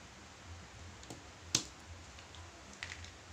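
A keyboard connector is pulled from an Asus X441M laptop, giving one faint, sharp click with a few softer ticks around it in a quiet room.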